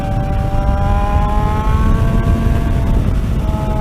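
A motorcycle engine hums and revs steadily as a ride gets underway, a loud, continuous drone with rising and falling tonal pitch and no talking.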